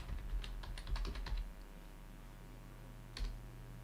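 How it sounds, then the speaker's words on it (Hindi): Quick bursts of keystrokes on a computer keyboard clatter close by, a rapid run of clicks followed by a pause and a short second flurry, fairly quiet and with no voices. "हम ऑप्शन टाइप कर देते हैं आप लोगों के लिए।"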